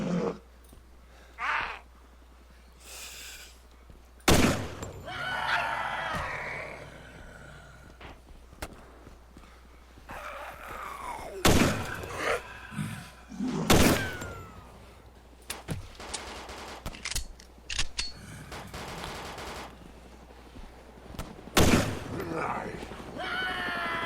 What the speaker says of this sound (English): This pistol seems to be pretty successful most of the time in one-shotting zombies.